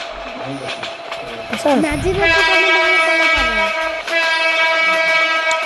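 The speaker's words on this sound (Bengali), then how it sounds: "এটা কী ট্রেন ভাই একটু কমেন্ট করে জানাও তো।" A train rolls past at close range with a loud, sustained rumble and tonal horn-like drone, and its wheels and carriages grind on steadily as someone talks over it.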